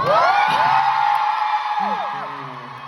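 Concert audience at a show cheering and screaming, loud high whoops and yells that swell early and then gradually fade over a few seconds.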